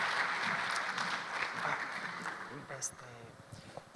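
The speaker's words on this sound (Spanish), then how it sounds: "un fuerte aplauso, por favor" Audience at a conference clapping steadily for about four seconds, a dense continuous patter at moderate level that eases slightly toward the end, with a voice briefly audible over the applause.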